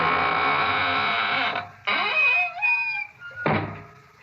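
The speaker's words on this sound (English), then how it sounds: "now it's time to close the squeaking door" A squeaking door slowly creaks shut as a radio drama sound effect, with long rising and falling creaks broken by short pauses and a final groan, loud and close with no talking.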